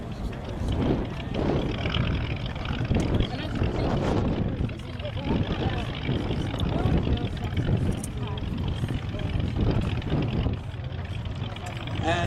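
Spitfire propeller aircraft fly past at the Flying Legends 2009 air show, a loud, rough engine roar rising and falling across the whole stretch, with a public-address announcer talking over it.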